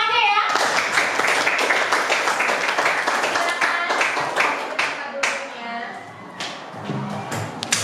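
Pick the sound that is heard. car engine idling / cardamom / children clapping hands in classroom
children clapping hands in classroom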